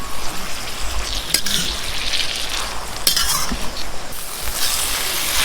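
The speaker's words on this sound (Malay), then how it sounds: "masukkan terung dan juga ikan bilis yang kita dah goreng tadi. Okey. Dan kita kacau" Eggplant and anchovies sizzle steadily while being stir-fried in a pan at a campsite, the loud frying hiss punctuated by a few sharp scrapes and clinks of a utensil against the pan.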